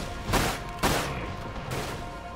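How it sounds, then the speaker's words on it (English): Gunfire in the video game Dirge of Cerberus: Final Fantasy VII, with two sharp loud bursts close together and a fainter third later, over a constant game background hum. "Who's shooting me?"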